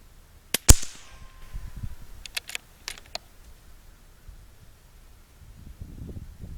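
Rimfire rifle shots crack sharply outdoors, one loud report near the start followed by a few lighter snaps in quick succession, then mostly quiet with faint low rumble.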